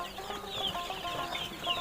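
Newly hatched Fayoumi and Tiger chicken chicks peep steadily together on a farm, a dense high chorus of thin cheeping close by with no voices.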